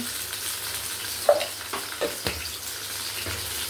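Okra fries in a pan with turmeric, a soft sizzle broken by a few light clinks and stirring scrapes close by.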